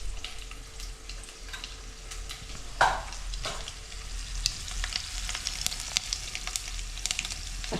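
Chana dal, urad dal and dried red chilies sizzle steadily in hot oil for a Telugu peanut and sweet potato chutney tempering, with a sharp stir near the start and crackling continuing throughout.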